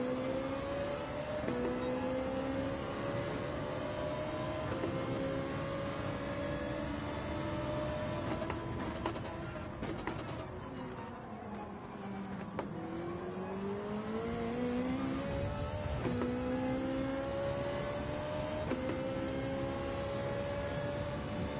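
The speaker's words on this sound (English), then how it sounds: "Revving before the race takes up fuel?" A race car engine in a racing video game revving on the grid before the start, a sustained steady drone whose pitch swells and dips through repeated throttle blips, loud and continuous for over twenty seconds with no talking.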